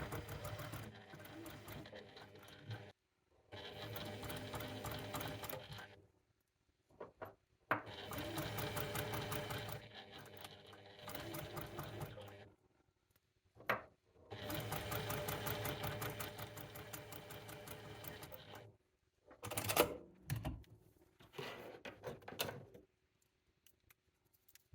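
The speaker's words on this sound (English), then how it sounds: "is just sew straight down this line" A sewing machine stitches along the end of a quilt binding in several long bursts, steady whirring runs separated by short pauses, close and fairly loud, with a few handling clicks near the end.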